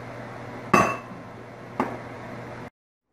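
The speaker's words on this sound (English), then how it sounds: "We're adding our 2 cans of drained and rinsed cannellini beans. Stirring those in nicely." Drained cannellini beans stirred into a pot of greens soup, producing two sharp metallic clinks of a utensil against the pot over a quiet background.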